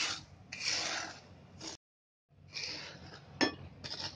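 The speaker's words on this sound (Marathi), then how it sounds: "मीडियम गॅसवर चांगला रवा भाजून घ्यायचा" Semolina (rava) roasting over medium heat for sheera, stirred with a spoon that rubs and scrapes against the pan in soft, close bursts, broken by a brief silence and one sharper clink.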